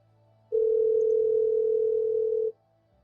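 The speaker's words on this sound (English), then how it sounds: "now I'm concerned about that ringing" A steady telephone dial tone, loud and close, sounds alone for about two seconds during a sound check, starting and stopping abruptly over a quiet background hum.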